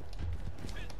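Horse hoofbeats with a whinny in the video game Red Dead Online, a short burst under a person talking.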